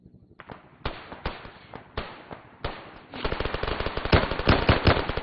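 Gunfire in the video game Arma 3 comes as several sharp single shots spaced apart, then a rapid sustained burst of automatic fire, close and loud.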